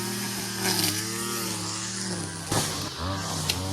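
A grass cutter engine drones steadily nearby, its pitch wavering and briefly rising as the motor revs.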